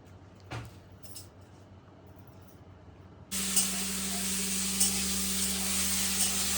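Potatoes frying in a pan: after a few seconds of near-quiet with a faint knock, a loud, steady sizzle switches on abruptly and holds with a continuous hiss, broken by a couple of small sharp pops.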